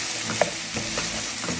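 Broad beans with ginger frying in a pan while being stirred, with a steady close sizzle broken by a few scraping spoon strokes and one sharp clink, no voices.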